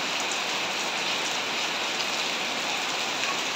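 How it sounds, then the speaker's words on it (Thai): Heavy rain pours down outdoors during a Thai incense-lighting ceremony, a dense, constant hiss of drops striking surfaces, close and even with no letup and no speech. "วันนี้ฝนตกด้วยนะครับแต่ให้ดูบรรยากาศนะครับ"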